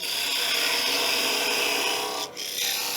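A woodturning tool cuts a wooden box on a lathe spinning at 1900 rpm, a steady close rasping hiss that breaks off for a moment near the end and then resumes.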